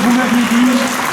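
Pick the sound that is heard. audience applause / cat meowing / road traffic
audience applause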